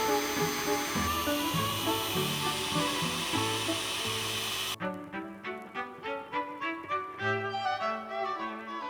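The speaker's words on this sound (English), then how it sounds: "when it came time to drill some holes" A drill bores holes in the fiberglass hardtop of a Honda S2000, giving a dense, steady, close-up grinding whine for about five seconds before it cuts off, after which a rhythmic tonal pattern follows.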